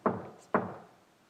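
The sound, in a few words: knocking on a door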